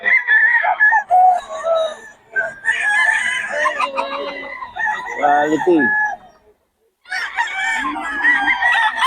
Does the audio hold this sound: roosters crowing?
yes